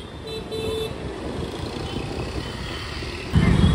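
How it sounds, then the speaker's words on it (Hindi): Busy street traffic hums and rumbles near a crowd gathered for a Rama Navami procession in Nagpur, with a brief car horn toot early on and engines passing close by. "और यहाँ पे क्राउड देखो कितना ज़्यादा क्राउड और ट्रैफिक है."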